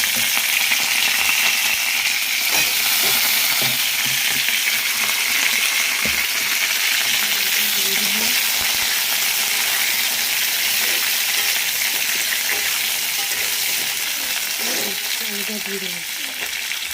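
Potatoes fry in hot oil in a pan tempered with a bay leaf, giving a steady, loud, close sizzle that hisses continuously, with occasional faint clinks.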